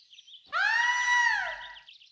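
A woman's high, sustained scream rings out for about a second and a half, loud and close, rising then fading against a quiet background.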